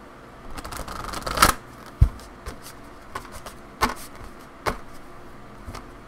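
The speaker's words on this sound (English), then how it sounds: "One more shuffle." Tarot cards being shuffled by hand, a quiet close riffle building to a burst, then several separate soft slaps and flicks of the deck at irregular intervals.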